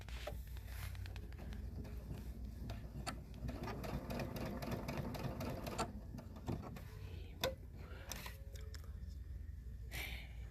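A sewing machine stitching a quilt-as-you-go hanging towel runs steadily with a fast mechanical whir, moderately close, broken by occasional clicks and handling noises, with no talk.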